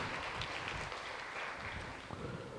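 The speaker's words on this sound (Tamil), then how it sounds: "கைத்தட்டி நம்முடைய பாராட்டுக்களை தெரிவிப்போம்." Audience applause at a Tamil Catholic retreat meeting for pilgrims at Arruppakkam St. Anthony's, a steady wash of many hands clapping, moderately faint and continuous throughout.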